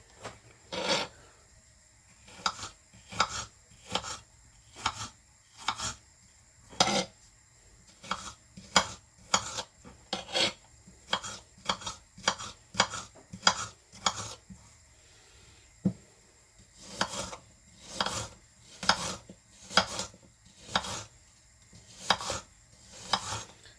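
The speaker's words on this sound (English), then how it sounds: "So we've got an apple. We're just going to cut it into little strips, like little French fries, really." Knife slicing a whole apple into thin fry-like strips on a board, a steady run of crisp, rasping cuts in quick regular bursts, close and clear with a short pause midway, no talking.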